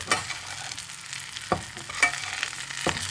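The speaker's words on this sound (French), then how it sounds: "Tout doucement, vous remettez de la graisse sur le chicon en lui-même" Endives fry gently in hot fat while being basted, a soft steady sizzle broken by a few distinct spoon taps and scrapes against the pan, close by with no voices.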